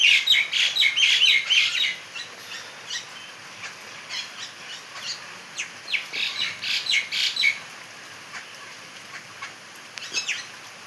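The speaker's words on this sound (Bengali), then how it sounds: "ভিজে গেছে পাখিগুলো সব।" Wet birds call in the rain with loud clusters of sharp, high squawks and chirps, most dense at the start and again in repeated bursts, over a quiet background.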